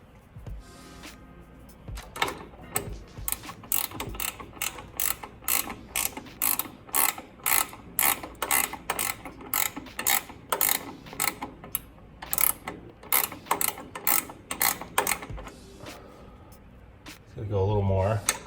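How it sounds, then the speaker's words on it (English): Rapid ratchet clicking while tightening a Koni Heavy Track shock during suspension install on a Mitsubishi Montero, steady bursts of close, sharp mechanical clicks over about fifteen seconds, ending with a brief low rumble. "Get this caught enough so the ratchet works"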